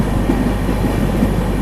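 The Kannur to Yeshwantpur Express runs with a steady low rumble and faint clickety-clack, heard from onboard as a continuous, even roar.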